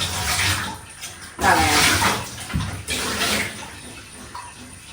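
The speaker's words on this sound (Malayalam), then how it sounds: "വെള്ളം കൂടുതലായാൽ നമ്മൾ ആ വെള്ളം കളയണം" Water gushes and splashes as it is poured out in a continuous stream, close by, swelling louder in a couple of surges.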